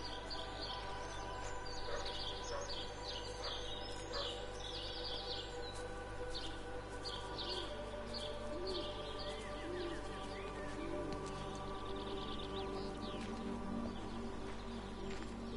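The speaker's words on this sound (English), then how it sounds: "I can still hear the birds" Birds sing outdoors with repeated chirps and trills over a low steady background hum, moderately loud and continuous, with no talking.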